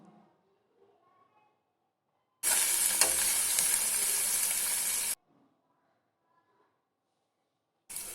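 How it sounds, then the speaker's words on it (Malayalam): Onions fry in coconut oil and ghee for chicken biriyani, a single close, hissing sizzle lasting about three seconds between quiet moments. "അതിനകത്ത് കുറച്ച് വെളിച്ചെണ്ണയും കുറച്ച് നെയ്യുമാണ് എടുത്തത് അതിലിട്ട് ഉള്ളി ഒന്ന് പൊരിച്ച് കോരിയെടുക്കാം"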